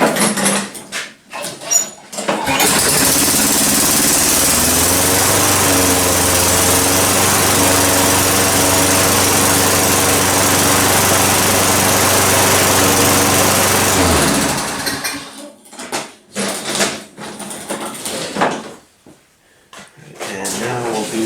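A lawn mower engine, primed and freshly serviced with a sharpened blade, catches after a few rough pulls and runs loud and steady for about twelve seconds before cutting off, followed by scattered knocks and handling noises.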